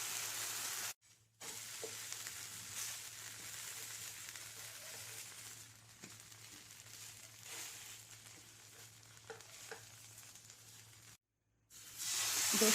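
Rava dosa fries in oil on a hot pan with a steady, soft hiss and crackle, broken by two brief silences and louder spattering near the end.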